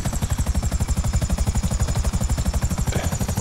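Helicopter rotor in GTA 5 Online thumps in a fast, steady chop with a whining turbine layered on top. It is loud and close, continuous throughout, with no talking.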